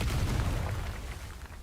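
A Confringo explosive spell blast in Hogwarts Legacy lands as a heavy, low booming burst that rolls on and slowly fades, loud and with no voices over it.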